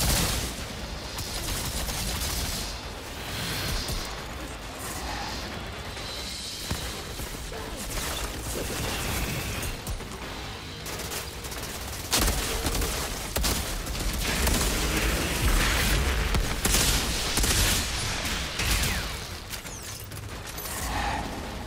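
Gunfire from firing from the hip in the co-op video game Outriders, with dense, loud bursts of rapid shots and mechanical clatter running continuously over the whole stretch, with no speech.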